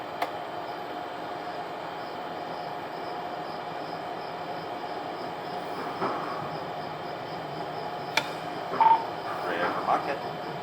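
The Little Rock Metro streetcar on the Blue Line pulls away from River Market with a steady low rumble of wheels on rails, a sustained tone underneath, a sharp clank and brief squeals near the end.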